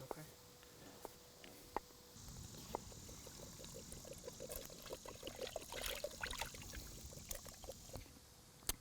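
Water poured from canteens into a stew pot at an outdoor camp cooking setting, a steady splashing trickle running for several seconds beneath a voice.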